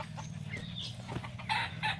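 Game fowl, including Kelso chickens, cluck close by with a brief rooster call near the end, over steady low farmyard hum.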